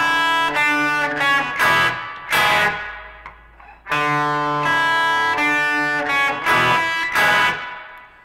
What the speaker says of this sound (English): Now notice I've got a lot of reverb on my amp